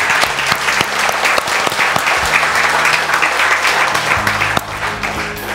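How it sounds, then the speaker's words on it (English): A church congregation claps their hands in loud, dense applause from a crowd, continuous and close throughout, tapering slightly near the end. "Come on, clap your hands."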